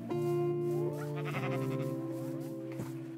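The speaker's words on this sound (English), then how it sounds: "Oh, that's a sheep." Minecraft sheep bleating, a close, fairly quiet pair of wavering electronic-sounding bleats heard alone with no talk.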